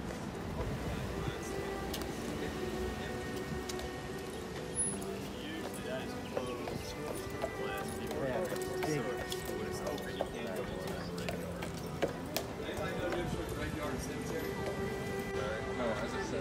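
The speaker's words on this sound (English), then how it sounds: "Watch out, we got a horse crossing." Horse hooves clip-clop across a street in historic downtown Charleston, a steady light clatter set within a busy outdoor bed of voices and town noise.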